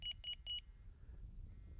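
A Delkim Rx Plus Pro fishing bite alarm gives three quick, clear electronic beeps in a row, then falls quiet apart from a soft background hum.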